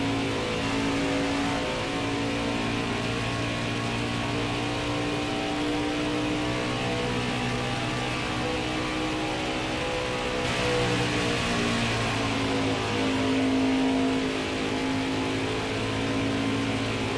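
NASCAR Xfinity Series stock cars roar around Michigan International Speedway in a sustained, loud engine drone with shifting tones as the field passes, steady throughout with no talk.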